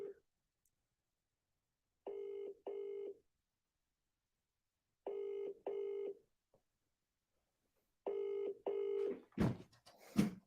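Three bursts of touch-tone dialing, each a pair of steady electronic tones, separated by silence, followed by a short clattering handling noise at the end; no ringing is apparent.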